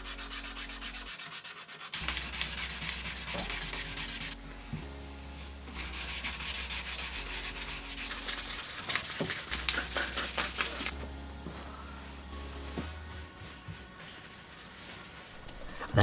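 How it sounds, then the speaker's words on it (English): A wooden knife handle being rubbed with wet-and-dry sandpaper, heard as close, continuous rasping strokes in long runs with a few short pauses. "I then moved on to sandpaper and smoothed it all the way up to 2000 grit wet and dry sandpaper."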